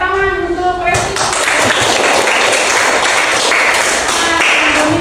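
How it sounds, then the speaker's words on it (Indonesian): Applause for the president at a school class session, dense clapping that begins about one second in after a brief sung or voiced tone and continues loudly to the end. "Beri tepuk tangan untuk presiden."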